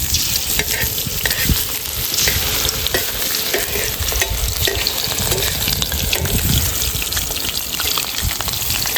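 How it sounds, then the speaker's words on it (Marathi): Fish sizzles steadily in a hot frying pan, a dense, even crackle of bubbling oil that carries on without pause, close and fairly loud. "आणि या साईड आपली मच्छी फ्राय"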